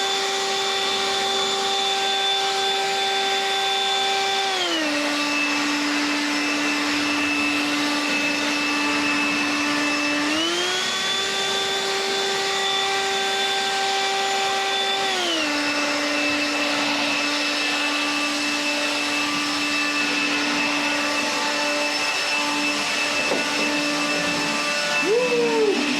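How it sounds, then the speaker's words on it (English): A Toro 120 MPH cordless leaf blower roars steadily at close range in turbo mode, its whining motor pitch stepping down and back up several times as the speed shifts, with no talking. "Let's hit turbo."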